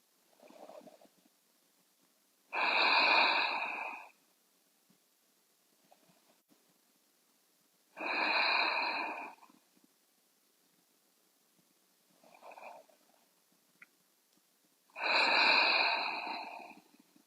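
Four slow, deep breaths during a yoga forward fold in a gentle hip-opening session: three long, strong exhalations with audible airy rush and one softer, shorter breath, evenly spaced with quiet pauses between, close and alone without talk.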